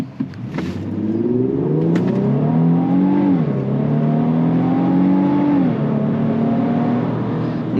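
A 2025 Infiniti QX80 SUV accelerates hard in sport mode, its engine note climbing steadily through a rising pitch, dropping at a gear change, then climbing again, close and loud with no talking.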